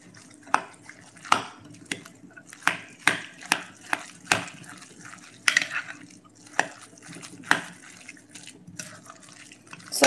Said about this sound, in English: So let's mix it.